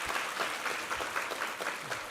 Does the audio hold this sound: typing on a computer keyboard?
no